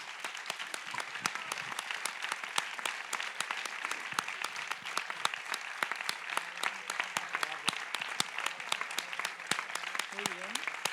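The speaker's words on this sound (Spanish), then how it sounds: "Un gran aplauso." Audience at a colloquium giving sustained applause, many hands clapping in a dense continuous wash with crisp individual claps, a few faint voices briefly audible underneath.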